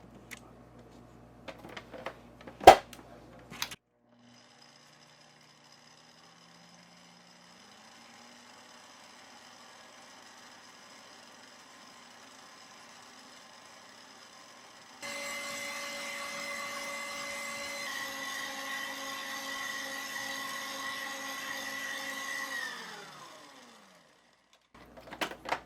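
An electric mixer beating a no-bake blueberry cheesecake mixture, opening with a few clinks and then a low steady whir that rises into a louder, higher motor drone before it stops.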